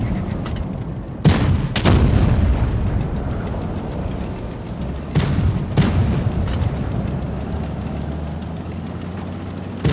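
Tank cannon fire from a Carro 45t in World of Tanks, with several loud booming shots heard in pairs, each followed by a rumbling tail over a continuous low engine drone.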